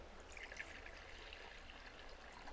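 Spring water poured into a jar to cover salted kimchi vegetables, a faint, steady trickling stream that runs continuously without pause.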